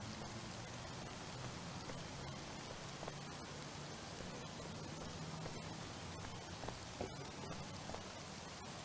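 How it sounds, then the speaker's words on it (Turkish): Faint, steady rain hisses in a car dealership simulator video game, an even wash of patter with scattered light drop ticks and no voices. "Yağmur yağıyor."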